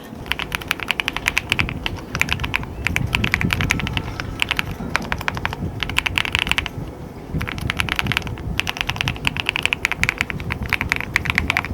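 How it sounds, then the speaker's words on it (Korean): Fingers type on an 87-key mechanical keyboard in an office, producing dense bursts of crisp, close clicks in quick runs with short pauses between them and no talking. "소리도 너무 만족스럽고요. 기계식 키보드라서"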